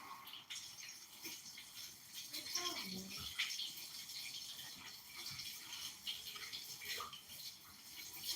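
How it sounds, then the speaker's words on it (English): Items are rinsed under a running tap, water flowing steadily with soft rattles and clinks of the items being handled, moderately close and fairly quiet, with no speech. "I'm going to rinse these off."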